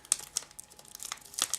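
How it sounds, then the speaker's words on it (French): A packet of Fimo polymer clay being folded closed and taped shut, giving quiet, close crinkling and crumpling of the wrapper in short irregular bursts, with a sharper rustle near the end. "vous allez replier comme ceci ou replier le paquet et mettre le scotch dessus"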